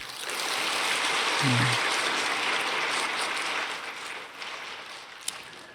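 A Korean church congregation claps together in a continuous, hissing roar of applause that swells, then gradually fades. A short voice is heard early on, and a single sharp clap stands out near the end.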